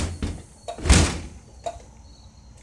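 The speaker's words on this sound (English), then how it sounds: "Okay, this door is hard to open." A hard-to-open door being forced open outdoors, giving a loud thudding bang near the middle, with a few smaller knocks and rattles before and after.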